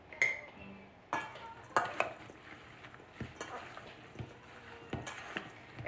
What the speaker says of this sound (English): And we're gonna give that a mix